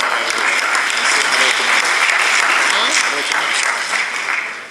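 A crowd at a press conference bursts into loud, sustained applause, steady throughout and tapering at the end, with voices faintly audible beneath.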